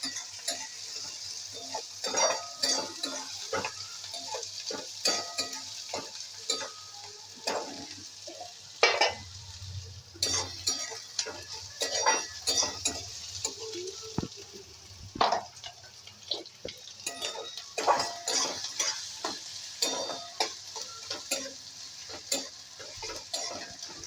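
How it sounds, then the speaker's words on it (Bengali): Onions fry in a pan while a spatula stirs them repeatedly, producing irregular scraping knocks over a soft steady sizzle, close and fairly quiet throughout. "পেঁয়াজ প্রথমে ভাজা হলো, পেঁয়াজটা ভেজে একটু নাড়াচাড়া করে"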